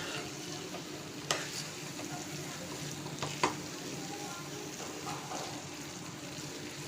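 A Chinese-style vermicelli snack with spring onion greens and lime is lightly mixed in a bowl, giving a faint, soft stirring rustle punctuated by a few quiet utensil clinks against the bowl.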